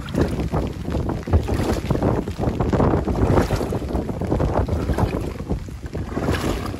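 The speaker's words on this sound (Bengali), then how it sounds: "বাতাসের জন্য ভিডিও করাটা আমার একটু সমস্যা হচ্ছে" Strong wind buffets and roars across the microphone on an open fishing boat heading out to check nets, gusting continuously with a low rumble of water and motor beneath.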